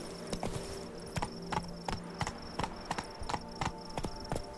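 Roach the horse trots in The Witcher 3, hooves clip-clopping in a steady, regular rhythm of crisp hits, close and distinct over a quiet ambient hum.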